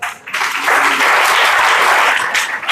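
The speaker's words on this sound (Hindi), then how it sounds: "आपने लिए तालियां बजा दो" Children in a classroom-style gathering break into clapping after a brief quiet start, a loud, dense patter of many small hands that holds steadily and then begins to fade.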